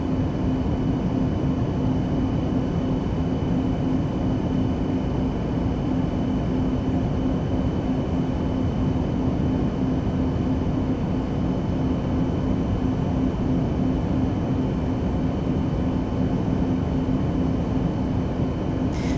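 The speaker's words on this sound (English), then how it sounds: "There's another plane zooming by." Another aircraft passing in the X-Plane 12 flight simulator, heard as a steady broadband engine roar with a faint hum, continuous and unchanging for about twenty seconds.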